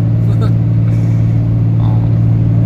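A Ram 3500 pickup with a 6.7 Cummins diesel drones steadily and loudly while pulling a 28,000-pound gross load uphill, with a voice talking over the engine.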